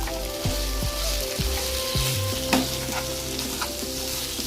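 Potato and pointed gourd pieces stirred in hot oil in a pan, giving a loud, continuous sizzle with a few scraping strokes and clanks of the spoon, close up and without talk.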